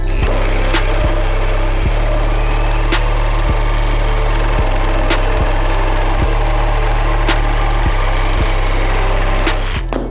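A Dnipro-M DRS-201BC Compact cordless reciprocating saw rasps loudly and continuously through a metal plate, its blade chattering in a fast, harsh rhythm close by with periodic knocks and no speech.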